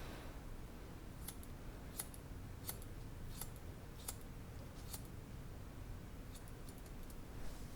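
Scissors snipping through long, blonde, lightened hair during an at-home layered haircut, about six crisp close snips at a steady pace followed by a few quicker small cuts, quiet and without talk.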